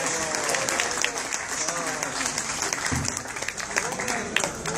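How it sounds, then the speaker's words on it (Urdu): An audience at a mushaira poetry night applauds to welcome a poet, with dense, sustained clapping at moderate distance while a voice talks over it. "آپ لوگ تالیوں سے استقبال کیجئے عمدہ ترین شاعری کی مثال"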